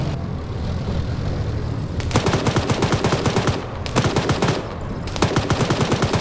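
Rapid automatic gunfire in a tactical shooter game skirmish, with one long sustained burst of evenly spaced shots followed by two shorter bursts, loud and close over a constant rumbling game background.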